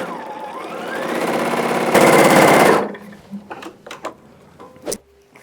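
A domestic sewing machine runs in a steady continuous burst while stitching the side seam of a skirt, then stops, followed by a few sharp clicks and handling noises.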